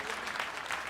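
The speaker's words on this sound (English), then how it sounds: "Give another round of applause for them." An audience at a chapel celebration of Black History applauds, a steady, dense wash of clapping hands that holds at an even level for under a second with no speech.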